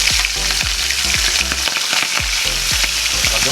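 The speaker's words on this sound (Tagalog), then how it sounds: "Iprito po natin to hanggang sa mag-golden brown" Espada fish fries in hot oil, a loud, close, continuous sizzle and crackle with repeated low bubbling bursts.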